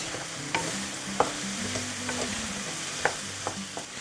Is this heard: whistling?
no